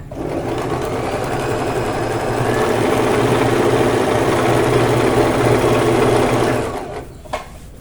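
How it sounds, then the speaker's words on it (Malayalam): A sewing machine stitches fabric for straight-cut trousers, running with a loud, steady, close mechanical whir for several seconds before stopping and leaving a brief clatter, with no voices. "ഈ മെഷീൻ എടുത്ത് എന്നാ വെച്ചാൽ എളുപ്പമുണ്ടല്ലോ തയ്ക്കാൻ നല്ല സ്പീഡിൽ തയ്യലും"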